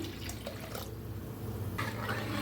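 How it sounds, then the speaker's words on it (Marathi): Cold water is poured into cooked dal in a pot for sambar, making a soft, quiet splashing trickle that stays low and steady throughout. "ह्याच्यात ओतूया पाणी"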